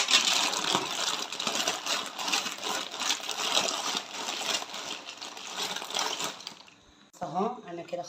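Water rolls at a steady boil in a pot on the stove, waiting for macaroni for a koshary pasta bake. A continuous bubbling hiss fills the clip before a voice briefly starts at the end.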